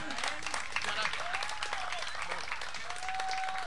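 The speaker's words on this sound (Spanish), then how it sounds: "y este era don Luis Ángel Castro, así que un aplauso fuerte para él" An outdoor festival crowd applauds a performer, with dense clapping running throughout, mixed with a presenter's voice and some faint tonal sounds in the background.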